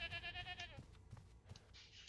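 A goat bleats in a video game, a wavering, nasal cry lasting most of a second that is followed by a few short clicks and game effects.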